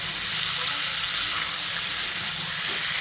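Chicken sizzling in a pan after ginger and green chili paste is mixed in, a steady close hiss of frying with faint stirring throughout.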